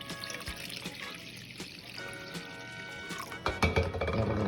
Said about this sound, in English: let's add in the cup of warm water